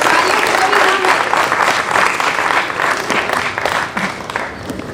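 An audience at an open mic event applauds steadily for several seconds, the clapping fading toward the end as a voice begins to speak.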